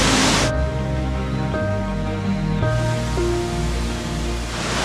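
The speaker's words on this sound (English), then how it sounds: "now I am at the second waterfall called Benang Kelambu" Benang Kelambu waterfall in Lombok: a steady, dense roar of falling water with a faint tonal drone beneath, starting after a brief louder burst.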